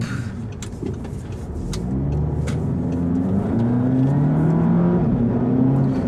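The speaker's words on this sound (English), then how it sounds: "it's the exhaust note that like pops and plops" A 2014 Audi TT 45 TFSI engine revving and building under load, with sharp crackling pops from the exhaust scattered over the steady rumble, close and loud.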